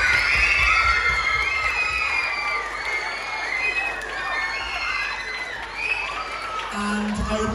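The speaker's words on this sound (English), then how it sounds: "So one more round of applause for everyone involved in our production." Audience at a school pantomime of Aladdin performed by Year 9 students cheers, whoops and claps in a loud, sustained crowd roar filled with children's shouts, steady throughout with a brief low tone near the end.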